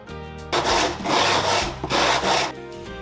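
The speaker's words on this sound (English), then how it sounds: "I taped the sheets onto a flat level surface, then ran the bottom and side edges along the graduated grits" Concrete coaster edges are rubbed back and forth across graduated-grit sandpaper sheets taped to a flat surface, giving repeated close, gritty scraping strokes in an uneven rhythm.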